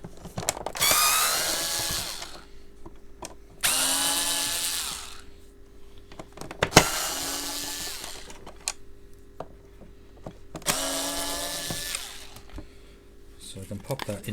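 A power driver whirs in four separate bursts of a couple of seconds each, removing the four screws from the sole plate of a Hoover Turbopower Junior U1220 vacuum, with a sharp click between bursts.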